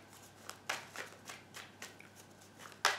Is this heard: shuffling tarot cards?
yes